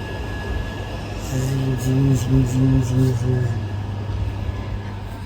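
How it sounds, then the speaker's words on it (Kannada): Steady low rumble inside a passenger train at Ashokapuram railway station in Mysore, with a brief tonal, voice-like murmur rising in the middle before the cabin drone carries on alone. "ಅಶೋಕಪುರಂ ರೈಲ್ವೆ ಸ್ಟೇಷನಲ್ಲಿ ಬಂದು ಟ್ರೈನ್ ಹತ್ತಿ ಕೂತಿದ್ದೀನಿ"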